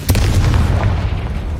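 Confringo blast spell from Hogwarts Legacy, a loud booming explosion with a sharp onset and a heavy low rumble that lingers through the short clip.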